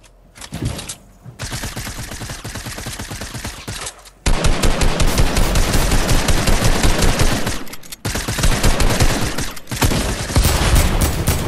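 Rapid automatic gunfire in a video game, loud and near, in long sustained bursts with brief gaps between them and no talk over it.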